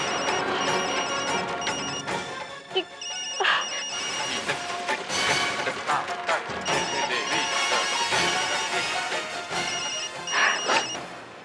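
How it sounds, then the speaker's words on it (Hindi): A phone rings repeatedly in bright, trilling bursts across the stretch, mixed with background noise and some clatter. "तो क्या हो गया, फोन क्यों नहीं उठा रही?"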